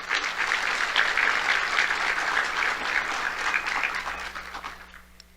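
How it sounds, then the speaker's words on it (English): An audience at the Miss and Junior Miss Cherokee competition gives a round of applause for the judges: dense, steady clapping for several seconds that thins and fades away near the end. "So let's have a round of applause for our judges,"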